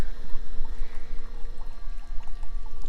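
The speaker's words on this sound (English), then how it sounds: "this is just a little aquarium pump, and it pumps the water up that tube and through here" Small aquarium pump pushing water up a tube, giving a steady low hum with continuous pouring and trickling water close by, unbroken throughout.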